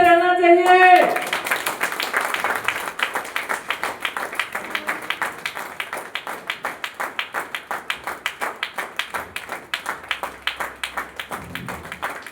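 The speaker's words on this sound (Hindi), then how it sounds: "ताली बजते रहना चाहिए।" Audience clapping at a stage event as a shield is presented, steady dense applause running nearly the whole stretch after a brief opening tone, with rhythmic beats emerging toward the end.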